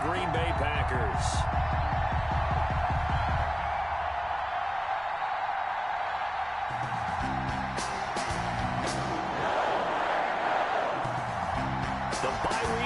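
Stadium crowd noise from a Madden 21 football game between the San Francisco 49ers and Green Bay Packers, a steady roar filling the background under announcer commentary.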